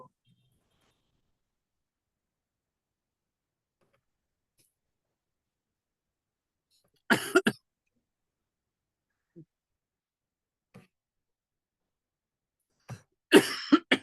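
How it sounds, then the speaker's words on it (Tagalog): One person coughs in two short, sharp bursts several seconds apart, each a quick cluster of harsh coughs, close and clear in an otherwise quiet room, with a few faint clicks in between. "Medyo inuubo ako eh."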